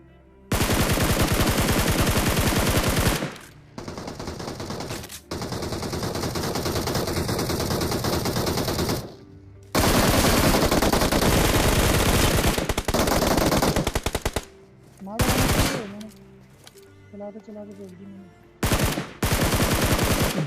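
Dense, loud automatic gunfire in a battle royale video game, long sustained bursts broken by short gaps, then quicker tap-fired shots in separate clusters toward the end.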